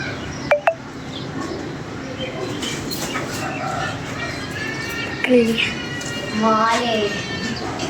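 Pigeons in a loft let out several soft, throaty coos, partly buried under loud, close conversation between people moving about.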